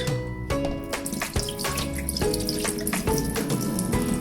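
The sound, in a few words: rice washing water being poured out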